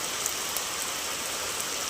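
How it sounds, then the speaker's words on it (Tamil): Heavy rain pours down steadily over a village, a dense, even hiss of drops hitting surfaces nearby with a few louder patters, no talking. "சரியான மழை எங்கள் ஊரில் பாருங்கள்"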